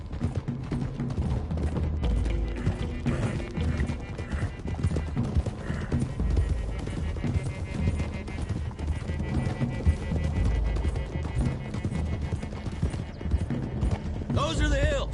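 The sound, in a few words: horses galloping, from video game Red Dead Redemption 2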